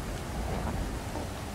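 Rain falls in the survival game Stranded Deep as a steady, soft hiss of drops that runs evenly and unbroken across the short stretch, with no voices.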